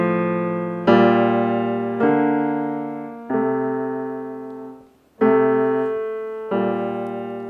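Six low melody notes from a song ring out one after another, dry with no echo. Each note is struck clearly and fades before the next, with a short gap near the end.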